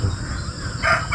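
A single bird call rings out briefly near the end, a short bright cry over steady outdoor background noise while fishing.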